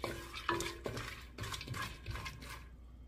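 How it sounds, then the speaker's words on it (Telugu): Cashews fry in ghee and oil for a mutton keema biryani. Quiet spoon clinks and scraping against the pan rise over a faint sizzle in short bursts, with no talking. "బాగా వేడి అయిన తర్వాత క్యాష్యూస్ వేసుకొని కొద్దిగా స్లైట్ బ్రౌన్ వరకు ఫ్రై"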